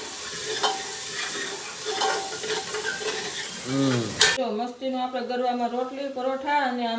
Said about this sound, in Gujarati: હવે આપણે હમણાં પહેલાં હલાવી નાખશું ધીમા ધીમા